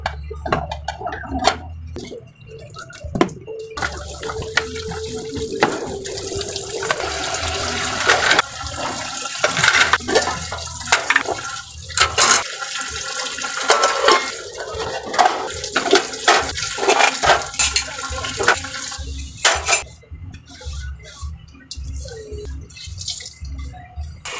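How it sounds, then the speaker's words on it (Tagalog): Dishes are washed under a running tap at a kitchen sink, with water splashing, dripping and gushing, plates clinking, and the flow starting and stopping in loud, close bursts. "maghugas muna tayo ng plato"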